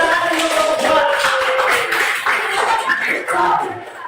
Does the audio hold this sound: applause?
yes